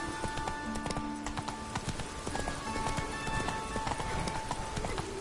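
Galloping horse hooves in the video game The Witcher 3, a rapid, continuous clip-clop rhythm heard close and steady under game ambience, with no talking.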